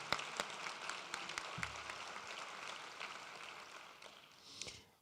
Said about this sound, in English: Come on, let's give them one more round of applause.